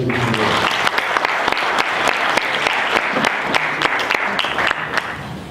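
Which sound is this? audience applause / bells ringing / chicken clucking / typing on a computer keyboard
audience applause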